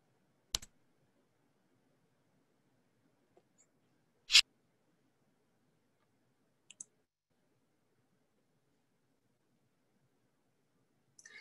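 Key tones from the Predictable app keyboard, a few sparse, sharp clicks spaced seconds apart over near silence, one louder tap in the middle.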